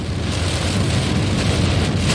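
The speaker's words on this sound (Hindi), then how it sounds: "बहुत बढ़िया मौसम, बहुत बढ़िया बरसात।" Heavy monsoon rain pours steadily during a car drive between Indore and Bhopal, a dense loud wash of drumming water and wind noise filling the space without pause.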